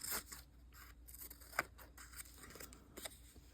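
Scissors snipping through paper while trimming pieces for an art junk journal, a few quiet, irregular cuts with crisp high rustles and one sharper snip near the middle, close and fairly soft with no talking.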